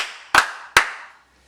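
Two sharp hand claps about half a second apart, loud and close, each with a short ringing room decay, then silence.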